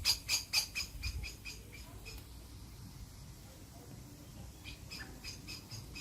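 Blackbirds squawking as they attack, a quick burst of sharp, repeated harsh calls at the start, then quieter scattered squawks later over a low background.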